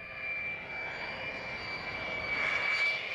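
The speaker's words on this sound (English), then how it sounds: "the test requires Rowdy to fly so close to the ground" An F-35 test jet flies low near the ground, a steady loud roaring engine with a high whine that builds slightly toward the end, heard alone.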